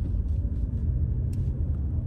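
Road traffic heard from inside a moving car: a steady low rumble of tyres and engine with a few faint clicks and short hissy bursts.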